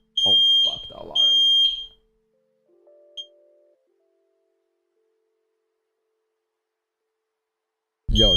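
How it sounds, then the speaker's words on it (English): A smoke alarm sounds in a room, giving three shrill, piercing beeps in quick succession, then falling quiet apart from a faint ping, before one more beep starts at the very end. "Yo, the alarm went off."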